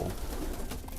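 Pigeons gathered at a small winter feeder give a steady stream of soft, throaty coos and rustling, close and continuous throughout with no talk.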